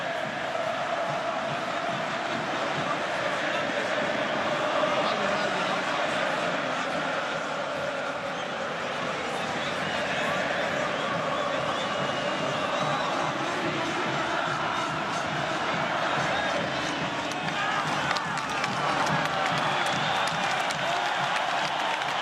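Grêmio supporters fill a stadium with sustained massed singing and chanting during the 2016 Copa do Brasil title celebration, a dense, steady roar of voices that stays loud and continuous throughout, with scattered cheers rising over it.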